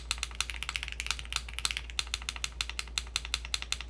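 Rapid mechanical key clicks from a 75% tri-mode mechanical keyboard in an uneven typing rhythm, fairly close and crisp, with no voices.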